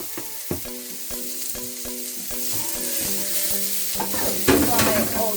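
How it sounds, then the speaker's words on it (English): Onions, garlic and chilies fry together in a pan, a constant bright sizzle punctuated by regular knocks and scrapes of a spoon stirring, growing busier toward the end. "Fry it all together."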